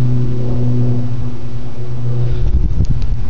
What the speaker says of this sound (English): just do a little rev of this exhaust